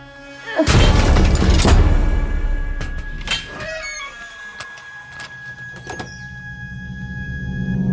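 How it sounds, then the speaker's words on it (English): Heavy crashing impacts from a lock being smashed in a video game, a loud burst of bangs and rattles at first, then scattered clanks and thuds that fade into a quieter, rumbling scene. "Someone smashing the lock?"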